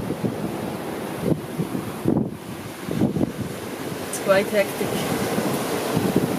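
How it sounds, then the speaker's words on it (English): Strong wind buffets a sailing boat on the Gulf of Suez as steep waves crash into the hull, making a rough, gusty roar with irregular surges. A person speaks briefly over it. "The waves are pretty steep, so sometimes they're smashing into the boat"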